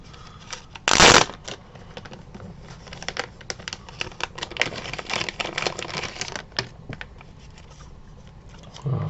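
Packs of trading cards being handled and shuffled, with quick papery flicks, riffles and crinkling wrapper rustles, one loud burst of riffling near the start and irregular close-up clicks after, no talk.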